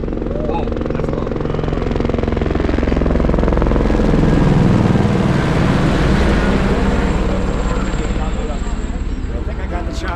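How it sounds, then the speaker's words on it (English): A helicopter flies low over the Everest Base Camp trail near Lobuche, a loud continuous rotor thrum and engine roar that swells toward the middle and stays prominent throughout. "I think I got the chopper."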